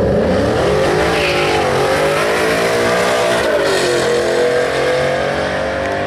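A 700 hp Shelby's engine revs hard and holds high during a burnout, a loud sustained roar that rises and falls in pitch with tire squeal mixed in, alone without talk.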